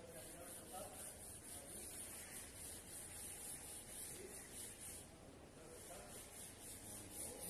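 Continuous rough scraping of sandpaper rubbing back and forth on a surface, close and steady, with a faint high hiss above it.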